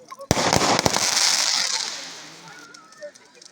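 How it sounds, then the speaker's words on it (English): Bonfire night fireworks at Salen Bay, Ardnamurchan: a sharp nearby bang followed by dense crackling bursts that fade out over a few seconds, outdoors, with faint voices in the background. "Aren't normally fireworks higher?"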